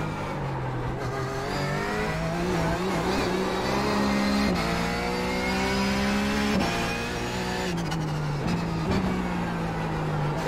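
Porsche 911 GT3 race car in the iRacing simulator at the Nürburgring: a loud, continuous engine note climbing through the revs, dropping sharply at each gear change and climbing again, with a brief tire squeal, heard from the cockpit with no talk.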